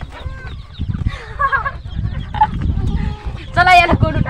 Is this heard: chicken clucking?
yes